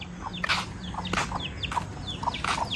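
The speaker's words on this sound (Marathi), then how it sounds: "ही बघा गाईज आमची कोंबडी" Short, repeated clucks and chirpy calls from chickens close by, coming in quick irregular bursts with some rustling between them.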